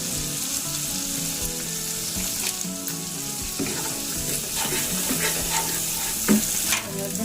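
Spices with ginger paste, cumin and red chilli powder sizzle and fry in a pan for paneer butter masala, a steady loud crackle with occasional stirring scrapes and clinks.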